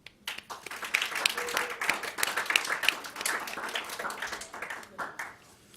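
Audience applause at a program event held at YIVO, a steady patter of clapping from a seated crowd that swells quickly and then gradually thins out over several seconds.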